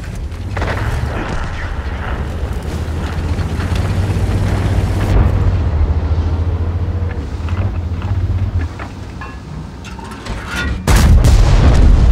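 Tank cannon fire and shell hits in a World of Tanks battle form rolling, heavy booms over a continuous rumble, easing briefly before a sharp, loud blast near the end.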